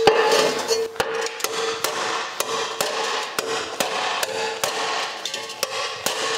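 A ball peen hammer strikes a 1956 Chrysler Windsor rear bumper in a steady rhythm, about a dozen sharp ringing blows at close range.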